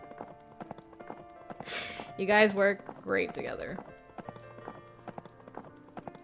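Horse hooves clip-clop steadily through horseback riding in the steampunk game Steam Prison, a soft rhythmic patter running throughout beneath a brief exchange of voices.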